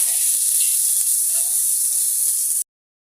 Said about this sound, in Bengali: দেড়টা পেঁয়াজ দিলাম লাল করে ভেজে নিব পেঁয়াজগুলো